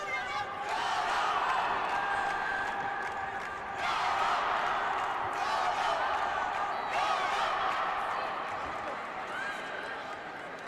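Home crowd at a karate final in Cairo cheering for an Egyptian fighter, a broad, sustained roar that swells in waves and fades slightly toward the end, with commentary over it.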